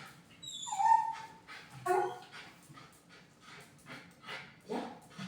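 A dog whimpers and yips repeatedly while being walked outdoors, high thin whines rising and falling in short bursts, fairly faint against a soft background.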